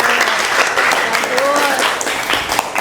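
Classroom applause for a student, with scattered clapping from a group of pupils mixed with chatter and a brief spoken word over it.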